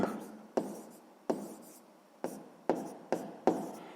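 Pen strokes scratching on paper while a sixth-grade math exercise is worked out, several short bursts of writing in an irregular rhythm, close and fairly quiet, with no talking.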